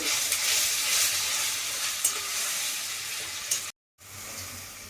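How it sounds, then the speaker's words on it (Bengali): Fish mixture with ginger paste stirred in a hot pan for chital muitha, a steady close sizzle with scraping stirs, briefly cut off near the end before frying resumes. "আদা বাটা দিয়ে এটাকে আমি একটু মিশিয়ে নিচ্ছি"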